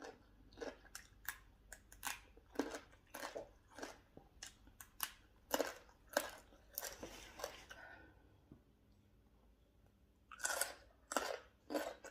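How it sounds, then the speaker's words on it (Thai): Fresh green papaya is crunched and chewed up close, a quiet run of crisp, rhythmic bites with short pauses and one longer gap before a few final crunches. "มะละกอกรอบมาก"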